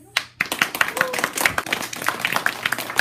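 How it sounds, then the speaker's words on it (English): A small audience claps for the cast of a school production of The BFG. The claps are sparse and individual, fairly close, with a brief cheer and some talk underneath. "Round of applause."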